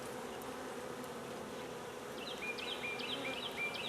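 Dense, steady buzzing of many honey bees from new package colonies fills the air close by, a constant drone with a few higher whines passing near.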